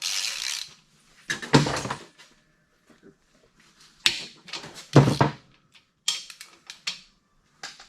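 A ratchet wrench clicks in quick bursts while bolts are worked loose during the teardown of a budget big block engine, the rattling runs separated by short quiet gaps, close and fairly loud.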